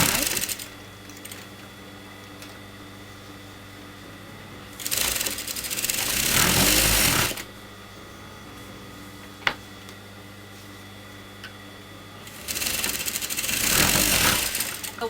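A sewing machine stitches the side seam of a kameez in two loud, rapid whirring bursts of about two and a half seconds each, separated by quiet pauses with a single sharp click between them.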